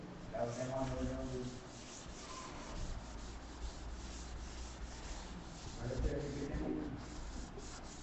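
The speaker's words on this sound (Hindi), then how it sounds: "ब्लैक बोर्ड से इन तीनों विधियों को हम रब करते हैं" A duster rubbing chalk off a classroom blackboard: steady, close, scratchy wiping continues throughout with a few rhythmic swells, and faint traces of a voice are heard near the start and later on.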